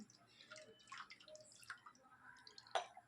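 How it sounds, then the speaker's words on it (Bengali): Water is poured from above over a frozen peanut coconut ice cream mould set on a plate, giving faint scattered drips and light splashes with a slightly sharper spatter near the end; no one speaks. "এবার একটা থালার উপর রেখে উপর থেকে একটু জল দিয়ে দিচ্ছি"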